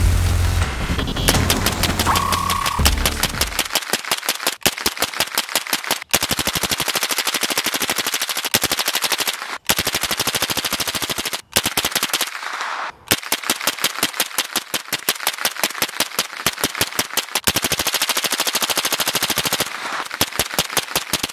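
Full-auto gunfire through a Microtech R2K9 suppressor during a 500-round burn-down: long rapid bursts of sharp, evenly spaced shots, broken by brief pauses, loud and close throughout.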